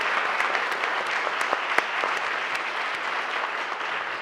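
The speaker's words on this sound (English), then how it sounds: "please join me in giving the panelists a big round of applause" Steady applause from a conference audience honoring a panel of speakers, dense and continuous clapping with a few sharper individual claps standing out, sustained at even volume throughout.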